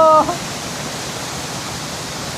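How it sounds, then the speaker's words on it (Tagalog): A large waterfall in Pugo, La Union, gives a steady, loud, broad roar of falling water that holds without change after a brief voice at the very start. "Grabe, kala ko maliit na falls lang to, pero malaki rin pala."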